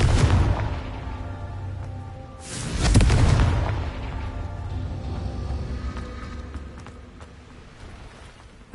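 Two deep explosive blasts from the Confringo fire spell in Hogwarts Legacy, a loud thump at the start and a second strong burst about three seconds later, each fading into a lingering rumble.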